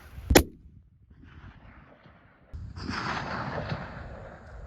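A single loud rifle shot at a red stag on New Zealand West Coast mountain tops, a sharp crack followed by a rolling echo off the hills and outdoor rumble afterward.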